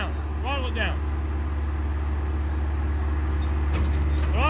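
A Bobcat 853 skid steer with a hydraulic brush hog attachment runs at a steady, loud diesel idle throughout. People talk briefly over the engine, and a short metallic rattle occurs near the end.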